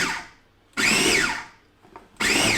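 A food processor pulses chopped fruit for Caribbean black cake in two loud, short bursts of whirring motor, each rising and falling in pitch, with quiet gaps between.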